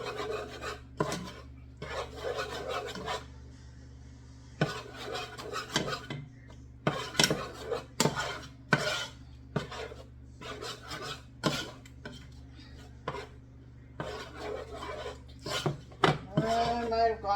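Wooden spoon stirring a butter and flour roux in a pot over medium-high heat, repeated scraping and rubbing strokes in bursts with clinks against the pot, under a steady background hum.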